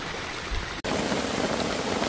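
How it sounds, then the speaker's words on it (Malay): Heavy rain pours steadily at a seaside campsite at Teluk Akuan, Malaysia, a dense, even hiss that briefly drops out and then resumes at full strength. "Dan hujan pun agak lebat lah."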